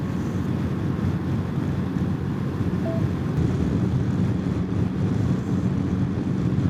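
Steady wind roaring across the microphone during a motorcycle ride near a choppy ocean on the way to San Francisco, a dense, constant low rush with no breaks and no talking.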